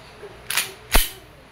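WE airsoft Glock 34 F-Series pistol fired on semi-automatic, two sharp close snapping shots about half a second apart in a quiet room.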